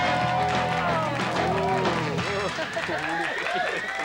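A television studio audience cheers and shouts loudly as a group, voting in a game show forfeit round, with many voices rising and falling together in a sustained roar.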